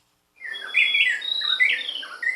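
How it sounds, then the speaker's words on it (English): Birdsong at sunrise above a steep forest valley in Uganda beside the impenetrable forest: a clear, close chorus of high warbling and chirping calls that starts after a brief silence and continues steadily. "Birdsong, rising with the sun above one of the steep valleys opposite Uganda's famed impenetrable forest"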